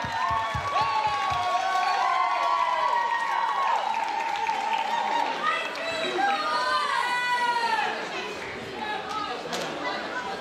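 An audience at a soup festival in Portugal claps and cheers as a tuna group is called to the stage, a steady wash of applause mixed with crowd chatter and shouts.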